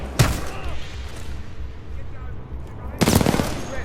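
Two loud, close bursts of gunfire from the video game Titanfall 2, about three seconds apart, over a steady low rumble of background noise.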